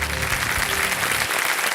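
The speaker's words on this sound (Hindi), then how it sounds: "तालियां बज जाए इनके लिए।" Studio audience applause in a quiz show studio after a contestant quits the game, a steady, dense clapping filling the room with no talk over it.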